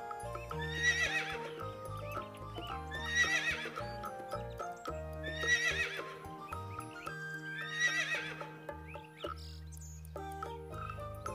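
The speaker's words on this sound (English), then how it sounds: "H for horse" A horse whinnies four times at regular intervals over a looping musical backing, each neigh loud and shrill with a trailing flutter.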